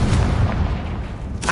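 In the video game Hogwarts Legacy, the Confringo blasting curse goes off with a loud, heavy rumbling boom that fills the short moment and ends in a sharp burst.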